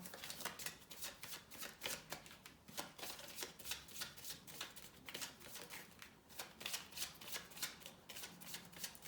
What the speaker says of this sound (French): Je vais juste vérifier que la carte soit bien à l'endroit